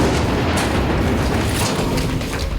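Flashbang grenade detonating during a military police special unit's room-breach drill, a loud sustained booming blast with rumbling low-end roar filling the whole moment, no voices.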